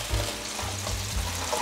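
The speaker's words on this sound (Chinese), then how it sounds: "快速翻炒，让酱汁都吸附到茄子里面。" Fried eggplant and fried tofu puffs are tossed quickly in bubbling sauce, giving a brief, close sizzle with scraping stir strokes and no talk.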